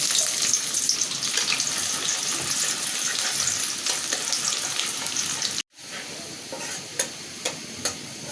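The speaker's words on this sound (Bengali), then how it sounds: "তেলটা আমার গরম হয়ে গেছে এখন আমি পেঁয়াজ কুচি দেবো" Chopped onion fries in hot oil in a pan, giving a steady, close, bright sizzle with stirring; the sound cuts out briefly, then returns a little quieter with a few utensil knocks.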